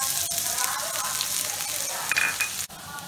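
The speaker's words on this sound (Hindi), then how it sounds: "इसमें से ये मैंने एक प्याज लिया, बारीक बारीक टुकड़ों में काट लिया है इस तरीके से। ये मैं इसमें भून लूँगी।" Finely chopped onion fries in a pan, giving a continuous close sizzle broken by a few spoon-stirring scrapes, heard alone without talk.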